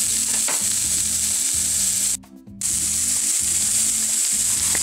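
Apple pieces fry in a pan with a steady close sizzle and a low humming drone, broken by a brief near-silent gap midway before the frying resumes.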